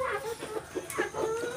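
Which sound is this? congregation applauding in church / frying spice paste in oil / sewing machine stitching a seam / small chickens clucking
small chickens clucking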